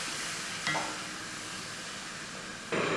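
Steady sizzling from a pan of Kerala-style ginger curry (inji curry) with tamarind water just added, with two brief louder scrapes as it is stirred.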